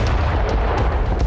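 Cluster bomblets raining down over a residential area of northeastern Ukraine, producing a dense, continuous roar of overlapping blasts and rumbling booms with sharp bursts standing out throughout.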